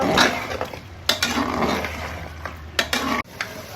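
Meat for Bengali mangsho kosha sautéed and stirred in a pot after pressure cooking, a steady close sizzle broken by a few sharp scrapes of a spoon against the pan; no one speaks.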